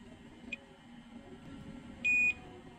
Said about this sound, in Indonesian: Di sini saya menggunakan range pengukuran buzzer